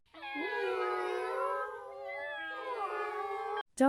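A cat lets out a long, loud, drawn-out meow, then a second wavering meow, both close and clear with nothing else behind them.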